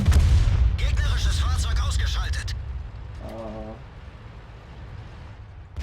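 A tank cannon fires in the video game World of Tanks, a heavy booming shot followed by mechanical clanks and rattles, with someone talking over the action.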